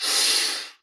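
A single strong breath is let out after being held during a Kriya Yoga breathing exercise, a close, breathy hiss that fades away within a second.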